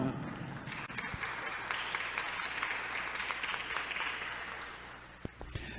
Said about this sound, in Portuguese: E isso não merece uma salva de palmas?